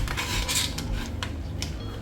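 A filled moi moi cooking pouch made of leaves and nylon is set onto a metal cooking pot, giving a close clatter and scrape of metal over a steady background hum.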